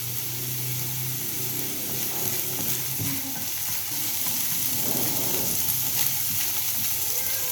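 A steady, even sizzle of garlic and ginger paste frying in hot oil, with faint stirring and no voices.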